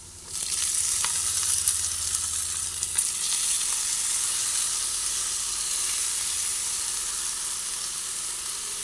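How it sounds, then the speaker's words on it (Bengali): Puffed rice is tipped into a hot frying pan and stirred, bringing on a loud, dense sizzle that stays steady and close once it starts, with a few faint clicks of handling near the start and no talking. "সে মুড়ি এক এক করে এর মধ্যে ঢেলে দেবো"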